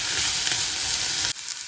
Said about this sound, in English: Now we'll fry these till they are translucent.